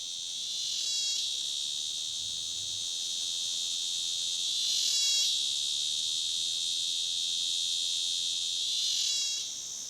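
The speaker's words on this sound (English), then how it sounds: "The sort of place where you might expect only reptiles and insects, like this cicada, to survive." A cicada in hot, dry, thorny scrub gives a steady high-pitched buzzing drone, moderately close and unbroken, swelling slightly in regular pulses every few seconds.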